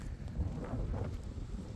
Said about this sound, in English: That's how windy it is behind us.